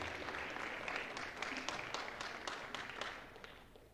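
Faint, distant audience applause at a school chapel certificate ceremony, a soft steady patter of clapping with murmuring.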